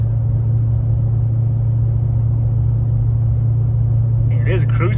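A car engine at highway cruising speed, 65 mph at about 1,800 RPM, gives a loud, steady low drone with a constant hum, and a voice comes in briefly near the end.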